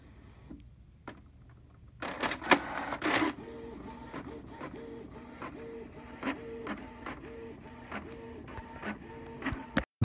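A Canon inkjet printer with its cartridge ink tracking disabled prints, its print head moving in a steady series of rhythmic mechanical passes with soft clicks and whirs, fairly quiet and with no voices.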